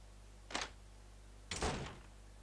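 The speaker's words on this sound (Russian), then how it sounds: "Открылась дверь." A door opens in the horror adventure game The Gray Garden, heard as two short muffled bursts about a second apart over a steady low hum, with no voices.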